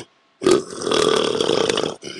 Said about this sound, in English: don't like push it out to try and burp. It should just come out on its own